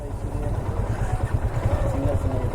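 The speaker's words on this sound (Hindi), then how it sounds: "ये बेनेली का है, 502 सीसी का बाइक है वो।" A Benelli 502cc motorcycle engine idling nearby, with a low throbbing, steady pulse and some road noise, and voices talking faintly underneath.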